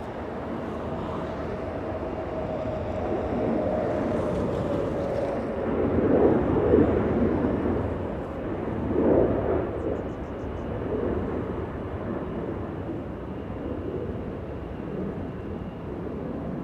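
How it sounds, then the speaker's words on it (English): A FlexJet Embraer Legacy 450 business jet comes in to land at Los Angeles International Airport, a steady broad engine roar swelling twice as it passes, heard at a distance with wind noise and no talk. "FlexJet 427 and Embraer Legacy 450 coming in to land."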